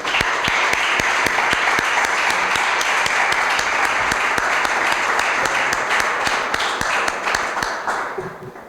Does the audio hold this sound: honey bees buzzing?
no